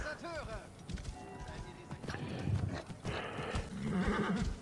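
A horse in the video game Assassin's Creed Origins whinnies near the start, then hooves clop along with shuffling movement and louder thuds later, while voices talk.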